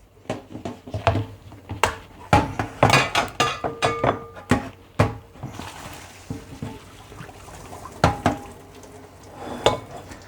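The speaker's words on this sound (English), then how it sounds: "But what I used is elbow pasta, and it's ready right now for me to drain it" Cooked elbow pasta, about a pound, being drained and tipped for a hamburger casserole, with a series of sharp metallic clanks and clinks of a pot and colander, irregular and close, with a softer watery rush in the middle.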